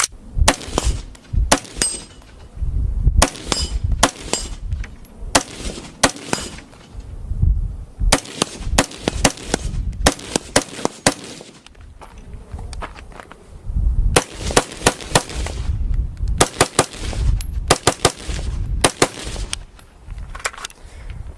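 Rifle gunfire from an Aero Precision M4E1 AR-style rifle fitted with a LaRue trigger and Leupold optics: sharp, loud shots fired in quick bursts and single strings, with brief pauses between groups.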